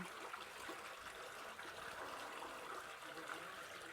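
Spring water flowing out at the foot of a mountain in a rural Muğla village, a steady, soft, continuous trickle and gurgle with no pauses.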